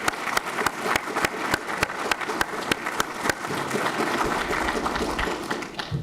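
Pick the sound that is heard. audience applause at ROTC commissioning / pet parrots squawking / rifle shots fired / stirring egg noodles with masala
audience applause at ROTC commissioning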